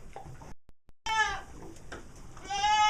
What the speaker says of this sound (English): The goats get separated from their kids during this process, and then they get worried.